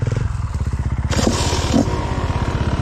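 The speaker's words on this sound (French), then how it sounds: "C'est beau ce petit wheeling là" Enduro motorcycle pulling a wheelie on a trail, its engine pulsing loudly close by, then revving harder with a brief clatter before settling back.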